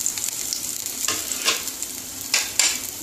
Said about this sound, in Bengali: এবারে আমি কালো জিরে ফোড়ন দিয়ে দেবো, রসুনটা দিয়ে দেবো, কাঁচা লঙ্কাটা দিয়ে দেবো।